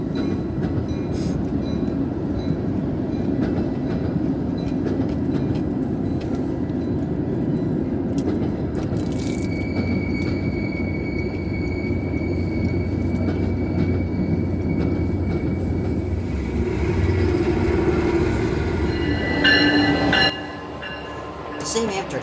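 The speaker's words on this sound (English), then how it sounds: "The same Amtrak train from earlier flips and goes to Milwaukee." An Amtrak passenger train rumbles past nearby, a loud steady roar of wheels and cars with brief squeals and a horn-like tone near the end before the sound drops away.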